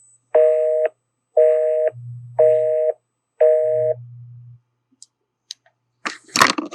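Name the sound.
telephone tone after dialing an out-of-service number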